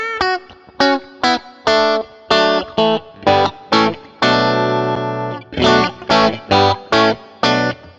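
An electric guitar through a Walrus Audio Mira optical compressor plays short, evenly spaced plucked notes and chords, with one longer sustained chord in the middle, clean and upfront with no talking.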